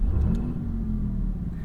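A 2022 Maserati MC20 engine fires up and settles into a steady, fairly subdued idle rumble that continues evenly, close by and without any talk over it.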